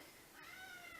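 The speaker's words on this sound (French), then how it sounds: "c'est mon chat qui miaule." A faint, drawn-out cat meow with a gliding pitch, quiet and somewhat distant against low background noise.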